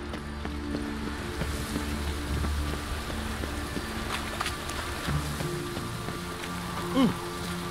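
Rain patters steadily on surfaces in the video game Witcher 3, an even background hiss with faint game sounds and a brief soft voice-like blip near the end.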